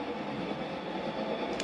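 A Broadway Limited 2-10-4 steam model locomotive, undecorated and pulling an ore train on a layout, runs with a steady, continuous rumbling hiss and a brief high squeal near the end.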